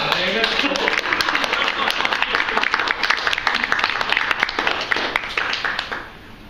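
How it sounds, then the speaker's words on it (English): Steady, dense clapping from an audience at a comedy show runs nearly unbroken for about six seconds, then quickly fades away. "Applause, damn it."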